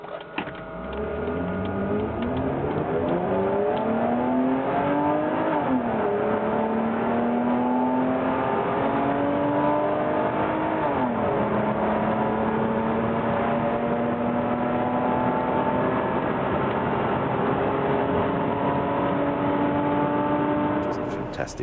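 A Mercedes W202 C280 with a 2.8 litre V6 engine runs and accelerates through several gear changes, its engine note climbing and dropping in steady pulls, heard from inside the car and loud throughout.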